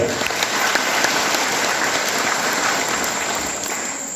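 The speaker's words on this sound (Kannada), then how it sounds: "ಒಂದು ಚಲೋದ ಜೋರಾದ ಚಪ್ಪಾಳೆ" Loud, sustained audience applause at a devotional gathering during a Basava Purana recitation at a temple festival, steady dense clapping from a large crowd filling the whole stretch.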